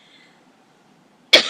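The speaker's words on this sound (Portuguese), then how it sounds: "como parece que vou começar a tossir" A single short, sharp cough bursts out near the end after near silence.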